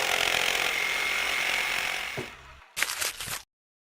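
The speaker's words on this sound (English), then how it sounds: "simply cut off the leading edge tongue of the first slat" A handsaw cuts the leading-edge tongue off the first slat of a floating wood floor, a steady rasping that runs close and loud for over two seconds, then fades, with a short final burst of strokes before stopping.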